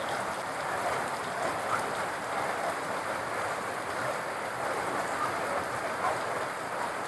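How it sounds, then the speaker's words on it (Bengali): Steady morning rain falls over a Bangladeshi village, a continuous even hiss of drops that stays constant and moderately loud for the whole stretch with no voices. "দেখেন সকাল সকাল কত সুন্দর বৃষ্টি শুরু হয়ে গেছে।"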